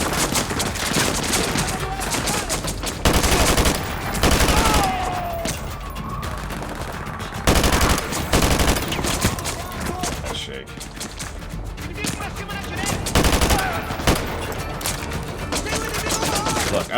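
AK rifle fire in the video game Modern Warfare 2 rattles in dense bursts and sustained volleys across the whole stretch, loud and close, with a voice talking over the shooting.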